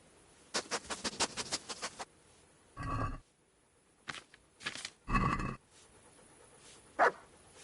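A dog in the Kingdom Come: Deliverance video game gives a quick run of rhythmic pants or yips, then several separate barks and huffs spaced out over a few seconds, close and fairly loud with no talk.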